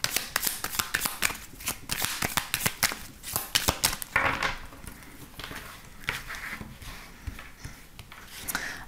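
Tarot cards being shuffled by hand, a rapid run of crisp papery riffles and flicks, close and fairly quiet, continuing steadily with no talking.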